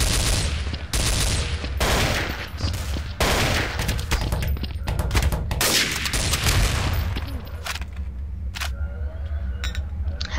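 Gunfire in Counter-Strike: Source on the Italy map, dense bursts of rapid shots and loud cracks through most of the stretch, easing into sparser, quieter shots near the end.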